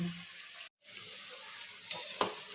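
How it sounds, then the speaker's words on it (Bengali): Puffed rice pakoras sizzle in hot oil in a wok over a lowered gas flame, a soft continuous crackle with a brief break and a couple of louder pops near the end. "এগুলো আমি এবার এক এক করে সব এর মধ্যে ছেড়ে দেবো, দিয়ে আমি গ্যাসের ফ্লেমটাকে কমিয়ে উল্টে পাল্টে লাল করে ভেজে নেব"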